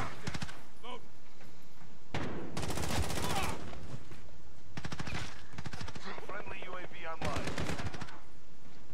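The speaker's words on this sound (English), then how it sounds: "I shot you point blank in the face" Rapid automatic gunfire bursts from Call of Duty Modern Warfare, played in hardcore team deathmatch on the Rust map, several loud close volleys separated by short pauses, with voices talking between them.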